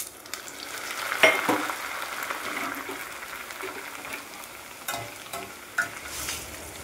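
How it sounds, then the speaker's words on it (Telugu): Cornflakes dropped into hot oil for frying give a steady, moderately loud sizzle and crackle, with a few sharper pops and stirring clatters along the way; no voices. "ఆయిల్ బాగా వేడిగా ఉన్నప్పుడే కార్న్ఫ్లెక్స్ కూడా వేసుకోవాలి."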